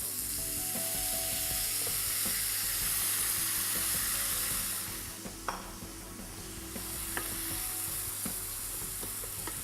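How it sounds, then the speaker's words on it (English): Mushroom stuffing with apple sautéing in a pan gives a loud, steady sizzle with occasional scraping stir strokes and light clinks. The sizzle dips briefly midway and then resumes. "And just saute all that. Quick stir."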